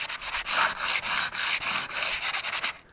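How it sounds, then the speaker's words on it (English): Sandpaper is rubbed by hand over a fiberglass boat rib in close, rhythmic back-and-forth strokes, about a dozen scratchy passes with short gaps between them. "So I'm going to rub it down with some sandpaper."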